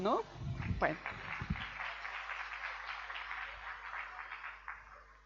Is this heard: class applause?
yes